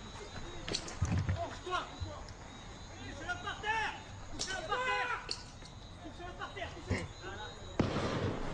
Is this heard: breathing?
no